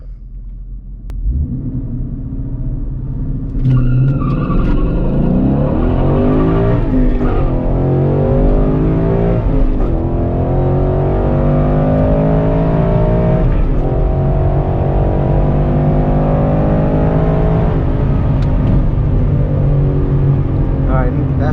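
A Coyote V8 Ford Mustang GT launches hard off the line at a drag strip, engine roaring loud and close as it climbs through the gears with rising revs and sharp shifts, sustained for the full run.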